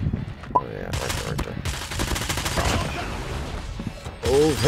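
Rapid bursts of automatic gunfire from close-range hip firing in a squad battle video game, dense and loud throughout with brief gaps, with a voice speaking over it.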